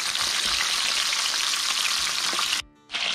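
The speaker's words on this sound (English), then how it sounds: "our pan full of oil is good and hot. So what we're going to do, we're going to sear this on" A venison neck roast sears in a pan of hot oil, giving a loud, continuous close sizzle that cuts out briefly near the end before resuming.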